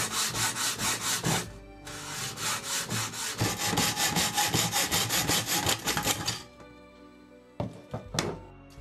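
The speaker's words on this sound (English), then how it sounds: "all I need now to do is start to hacksaw carefully" A hacksaw cuts around a metal can being made into a hobo stove, with rapid rhythmic back-and-forth strokes close up that pause briefly and then resume. The sawing stops near the end, leaving a few scattered knocks.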